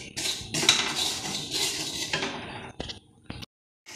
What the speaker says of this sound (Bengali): এটা শুকনো খোলায় ভেজে নেব। গ্যাসে কড়াই বসিয়ে আমি এটা দিয়ে দিলাম।